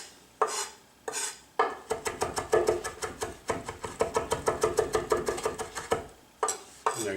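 A chef's knife rocks rapidly through fresh dill on a cutting board, a quick even train of close, crisp chops that starts in a few separate strokes, speeds into a steady rhythm and trails off into a few final cuts.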